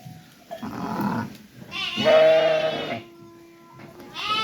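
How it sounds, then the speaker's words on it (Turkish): Sheep and lambs bleating in the evening in several wavering calls, some overlapping, with a longer loud bleat in the middle and quieter farmyard background between. "Kar kuzulu koyunlarımız arkadaşlar"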